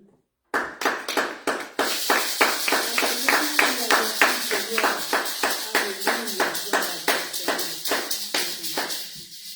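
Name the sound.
congregation applauding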